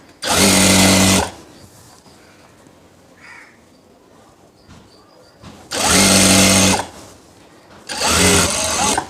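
Sewing machine stitching the seam of a churidar bottom, three loud mechanical whirring bursts of about a second or so each separated by quiet pauses, close and without talk.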